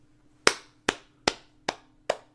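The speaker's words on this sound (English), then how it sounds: "You're supposed to clap too." Five sharp hand claps in a slow, even rhythm, close and loud, with a low steady hum underneath and no talking.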